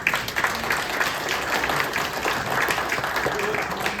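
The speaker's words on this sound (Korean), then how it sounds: "끝까지 잘 남아주신 위원장님께 박수 한번" Steady applause from an audience at a national assembly infrastructure forum, a dense wash of clapping lasting several seconds at moderate level.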